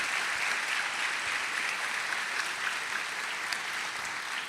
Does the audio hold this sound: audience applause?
yes